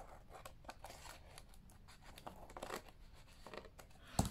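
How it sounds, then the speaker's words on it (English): Scissors snipping paper for a junk journal: a quiet series of close, dry cuts and rustles, with a sharper snip at the end and no talking. "Difficult to get the scissors in."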